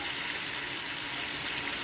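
Hot water pours into a spicy village-style black masala brinjal (baingan) curry, giving a steady, continuous rushing hiss for about two seconds, close and even, with no talking.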